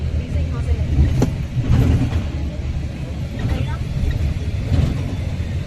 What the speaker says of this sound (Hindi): अब ये स्पीड पकड़ लेगी यहाँ से गाड़ी